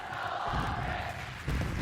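A watch-party crowd at a Call of Duty championship roars in a dense, continuous wall of noise, with the swell rising again toward the end.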